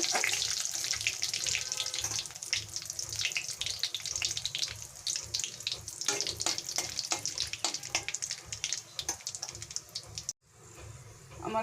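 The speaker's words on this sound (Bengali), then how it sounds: "হাফ টিস্পুন গোটা জিরে দিয়ে দিলাম এটাকে আমি প্রথমে ভালো করে ভেজে নেব" Whole cumin seeds frying in hot oil as a tempering, a loud, dense crackling sizzle that runs steadily and then cuts off abruptly near the end, with no speech.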